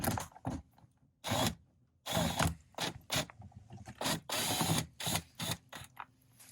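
A hand ratchet works loose 7mm fasteners on a 2011-2016 Ford Super Duty power mirror, giving close, repeated bursts of quick mechanical clicking separated by short pauses.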